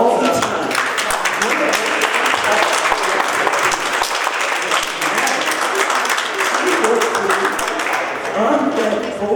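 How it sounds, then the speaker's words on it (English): Audience applause at a municipal board of trustees meeting, honoring a long-serving board member: a dense, sustained round of clapping from a room of people, even in level and lasting throughout. "If we could, let's applaud long time."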